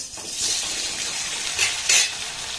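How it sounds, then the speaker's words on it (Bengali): Coconut pithas dropped into hot oil in a wok, a steady close sizzle and hiss with brief swells of louder frying as pieces go in, no talking. "এবার যে পিঠেগুলো বানিয়েছি এই তেলের মধ্যে দিয়ে দেবো"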